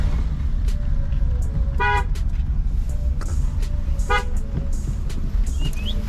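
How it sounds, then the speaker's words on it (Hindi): A car coming along a road and honking, two short bursts of horn toots a couple of seconds apart over a steady low engine and traffic rumble, moderately close. "देख देख देख देख गाड़ी आ गई"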